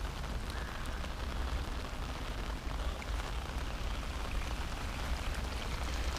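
Heavy rain pours down at Blue Lake in Vynohradar, Kyiv, forming streams of runoff, in a dense, continuous hiss, steady and loud with no pauses or voices.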